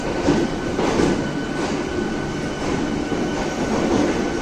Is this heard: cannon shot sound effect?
no